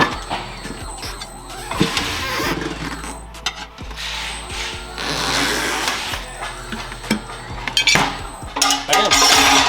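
Tire being lubed and mounted onto a wheel on a tire-changing machine in a shop working on a 1968 Impala, with clanking, squeaking rubber and mechanical whirring in bursts of varying loudness.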